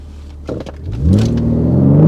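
A 400-horsepower car engine idles low, then revs up loudly around the one-second mark and holds a strong, steady drone close by, with a few brief clicks early on.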